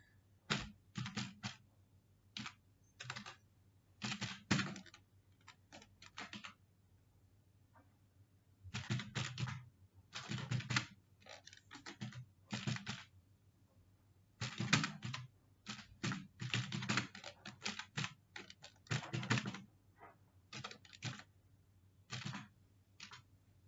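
Bursts of typing on a computer keyboard as a heading is entered, quick clattering key taps in irregular clusters with short pauses between, close and clear with no talking.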